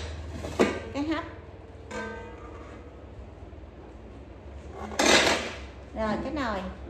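Metal cooking pots from an American-made set with a steamer insert being handled, giving several sharp clanks and ringing scrapes, two louder bursts among them, while someone speaks between the impacts.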